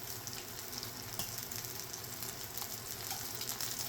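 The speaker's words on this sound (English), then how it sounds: "we'll go ahead and fry the second batch" Sausages sear in a pot for a nice brown crust, giving a continuous bright sizzle and crackle of hot fat, close and steady with no voices.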